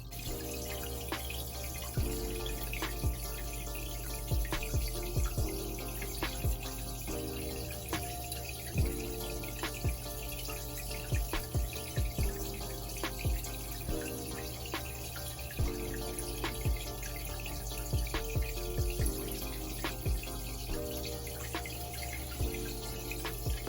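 Water trickles continuously in a small indoor turtle pond, a steady close splashing flow with frequent soft drips layered over it.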